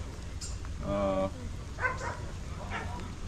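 Hunting dogs bark a few times at a dog show, one loud harmonic bark burst near the start followed by shorter yips, with background chatter and crowd noise around them.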